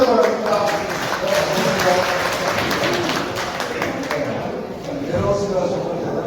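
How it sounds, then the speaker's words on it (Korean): A crowd at a Democratic Party members' day event in Gumi claps to welcome a lecturer onto the stage. Steady, dense applause carries through the whole stretch, with voices murmuring underneath. "박수로 맞아보도록 하겠습니다"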